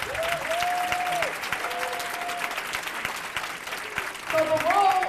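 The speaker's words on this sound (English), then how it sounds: "Give them a round of applause." An audience at a school district parent engagement kickoff claps steadily for parent action leaders, a broad burst of applause that dips in the middle and swells again near the end, with faint voices mixed in.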